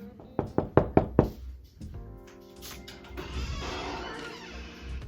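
Knocking on a door by a visitor: five sharp, evenly spaced knocks close at hand, followed by quieter indoor movement and rustling.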